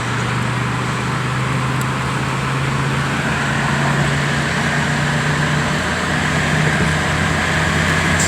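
A car fitted with a QuadraJet carburetor accelerates hard from a stop and shifts gears, a loud steady engine drone and road rumble heard from inside the cabin, with a slight change in pitch near a shift.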